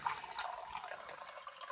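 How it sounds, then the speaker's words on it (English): Water from a manual hand-operated dispenser pump pours into a glass in a soft, steady, faint trickle with no break. "so now we can take off the stopper, and then we're going to pump."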